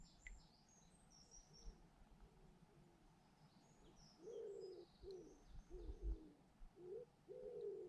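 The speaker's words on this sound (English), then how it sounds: "Wood pigeon," A wood pigeon coos repeatedly from a short distance beside quiet water, soft low phrases coming in a loose rhythm, with faint higher bird chirps in the background.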